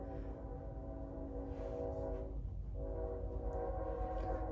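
A train passes nearby, a steady loud rumble of rolling wagons with a sustained horn-like tone, with no talking over it.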